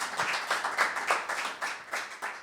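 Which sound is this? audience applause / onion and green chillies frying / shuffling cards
audience applause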